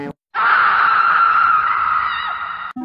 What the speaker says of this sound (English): until they heard a scream from the basement